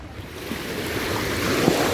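Evening sea waves wash onto the beach at Durrës, Albania, on the Adriatic. The surf makes a steady, broad roar with wind noise on the microphone, and it swells slightly louder toward the end with no voices.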